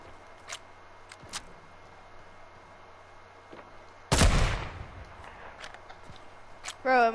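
A sniper rifle shot in Fortnite cracks loud and close, with a sharp blast and a short decaying tail, after a stretch of quiet game ambience with a few faint clicks. Another brief burst sounds near the end.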